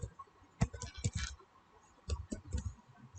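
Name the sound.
typing on a computer keyboard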